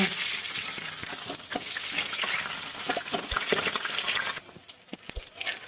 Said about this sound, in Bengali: পটলটাকে লাল করে ভেজে নিব।